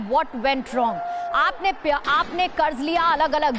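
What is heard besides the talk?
No everyday noises stand out.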